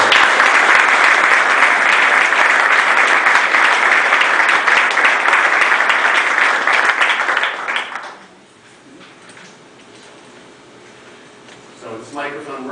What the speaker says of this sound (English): I ask you to give him a warm round of applause.